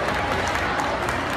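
Audience applause welcoming a child contestant on stage at a kids' singing competition: dense, steady clapping from a crowd that holds at an even level throughout, with no break.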